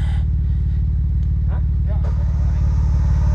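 A motorcycle with a loose exhaust idles close by during muddy riding, its steady low rhythmic putter and rattle continuous throughout while people talk over it.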